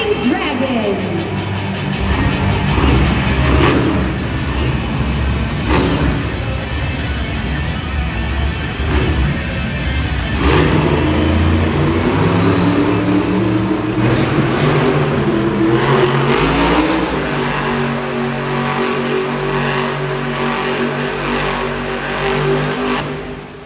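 The Monster Jam truck Dragon, driven by Cody Saucier, spins donuts at an arena show in Hartford, Connecticut, its engine roaring loud and continuous with rising and falling revs while an announcer talks over it.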